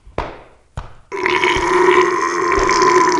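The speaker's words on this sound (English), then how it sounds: "Hang on, I got a burp to start." After chugging a can of Coke, someone gives two short gulping clicks, then lets out a long, loud, drawn-out burp that rumbles close up for about two seconds.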